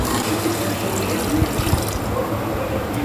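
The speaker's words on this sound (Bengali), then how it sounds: "এবার নাড়িয়ে নিয়ে পরিমাণ মতো জল দিয়ে 4 থেকে 5টা সিটি" Water pouring steadily into a pressure cooker of rice being cooked with salt and turmeric, a continuous close splashing gush that stays even throughout, with no talk over it.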